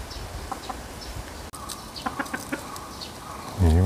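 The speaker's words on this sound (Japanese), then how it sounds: "ニワトリが放し飼いだわ。" Free-range chickens cluck nearby in short, scattered bursts, with a louder low rumble at the very end, no talking.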